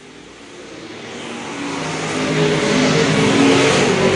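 Stock cars race on a dirt track in a street stock heat, and their engines roar steadily and grow louder as the cars come closer. A dense, distant engine wash builds without talk.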